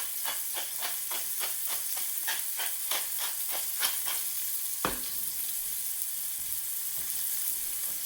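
Shallot and garlic sizzle in a hot frying pan with a bright, steady hiss, broken by a quick run of rhythmic stirring scrapes and a single sharp knock near the middle.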